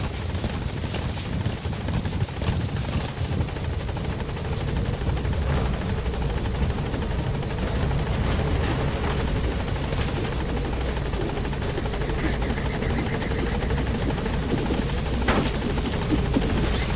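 A support helicopter arriving in Metal Gear Solid V, its rotor a loud, continuous roar that fills the whole stretch, with bursts of gunfire crackling underneath.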